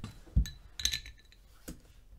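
A bottle cap pried off with a small notched opener: a sharp metallic pop followed by a few light glassy clinks and a final tap, close and brief, in a quiet room.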